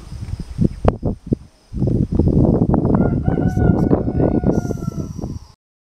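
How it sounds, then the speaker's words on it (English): Chickens in an outdoor pen on a humid morning cluck and squawk in busy overlapping bursts, close by, with a drawn-out crow-like call and faint insect chirps in the background. "We're in one of our chicken pens."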